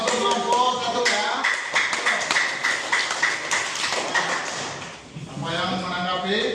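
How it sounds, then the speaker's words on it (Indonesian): A classroom group of students claps for a presenting group, a brief burst of close, sharp hand claps mixed with voices talking over it. "tepuk tangan dulu Nak ya untuk kelompok 1 ya"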